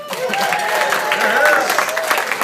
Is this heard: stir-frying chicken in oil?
no